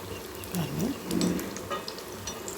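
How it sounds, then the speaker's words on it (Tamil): Raw banana bajji deep-frying in oil in an iron kadai, a steady soft sizzle and bubbling that holds through, with a faint low voice briefly underneath. "இப்போ பச்சை எல்லாம் வெந்துக்கிட்டு இருக்கு இது அயன் கடாய்"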